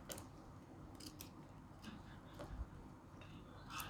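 Okra has its ends snipped off, heard as a few faint, sharp scissor-like clicks at irregular intervals against quiet kitchen background noise.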